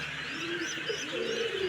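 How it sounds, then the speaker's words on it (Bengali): Pigeons coo in soft, repeated throaty calls inside a bird and poultry shop, with faint chirps from other birds mixed in and a low background murmur. "এখানে সকল ধরনের পশু পাখি আছে, যেমন কবুতর"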